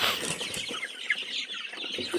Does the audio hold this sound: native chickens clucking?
yes